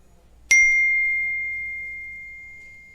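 A YouTube notification ding: one bright, clean chime that rings out and fades slowly over a couple of seconds in an otherwise quiet room.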